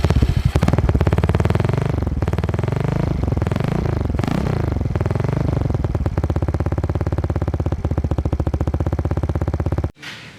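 A 2010 Yamaha Mio Soul scooter with its original exhaust modified runs close and loud, a steady buzzing engine drone with a few blips of revving early on, cutting off abruptly near the end.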